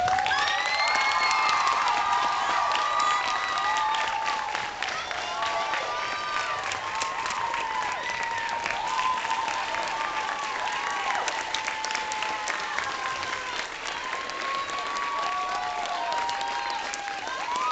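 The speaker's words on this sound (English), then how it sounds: "Please give a big round of applause to Miss Roberta Williams." A room full of people claps steadily and enthusiastically, with some cheers and whoops mixed into the sustained applause.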